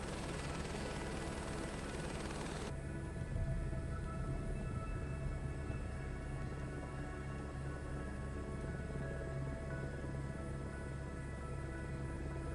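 A helicopter in Microsoft Flight Simulator 2024 gives a loud, continuous rotor and turbine drone that holds steady throughout, with no talking.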